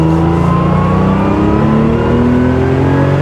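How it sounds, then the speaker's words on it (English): The exhaust of a 1979 Porsche 911 SC Targa with a freshly overhauled engine and transmission roars loudly and close, its revs climbing smoothly and steadily while the car is driven. "Hope you can hear the exhaust. I mean, it just sounds beautiful."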